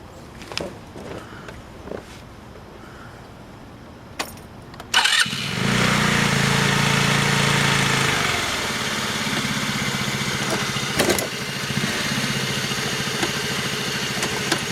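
A Taotao ATM150-A Evo scooter starts after a few nearby knocks and footsteps, then holds a steady close engine drone while being ridden on a test ride, with a brief louder rev near the end.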